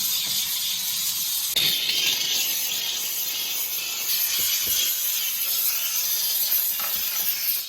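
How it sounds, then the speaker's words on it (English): Steam cleaner working through a car interior, a steady high hiss running throughout with occasional soft clicks and rubbing noises from the nozzle against surfaces, close and continuous. "we're just gonna steam it up, kind of hot box the car, and then wipe down all the surface"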